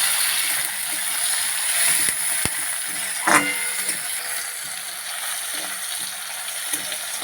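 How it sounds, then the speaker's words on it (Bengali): Chopped tomato, onion and green chilli fry in oil with a soft, steady sizzle, broken by a few clinks and scrapes of a utensil against the pan. "টমেটো পেঁয়াজ আর কাঁচা লঙ্কা ভালো করে ভাজা হয়ে গেছে"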